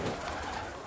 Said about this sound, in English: A beautiful, nice homer pigeon baby.